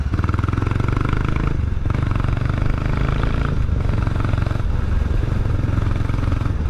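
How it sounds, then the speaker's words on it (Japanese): A Kawasaki Estrella BJ250A motorcycle pulls uphill under load, its single-cylinder engine thumping in a loud, steady, close rumble with a couple of brief dips as the throttle eases. "ここも上りでトルクをかけながら走ります。"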